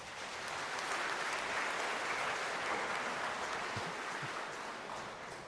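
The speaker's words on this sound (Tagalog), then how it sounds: "Pumalakpak ng malakas." A church congregation applauds loudly at a homily, a dense, steady wash of many hands clapping that holds evenly for several seconds with no voices on top.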